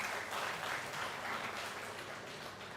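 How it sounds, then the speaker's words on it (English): Audience applause at a national-level hackathon, a continuous wash of many hands clapping at moderate distance, fairly quiet and steady throughout with no speech. "Guys, a big round of applause for Jitesh Bajaj sir."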